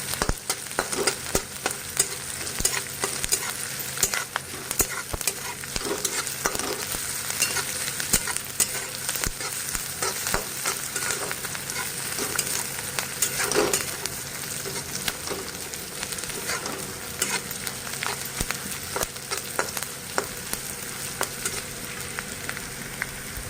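Onions frying with ginger garlic paste in a pan for a cabbage dish, a steady close sizzle with frequent stirring scrapes and clicks running throughout.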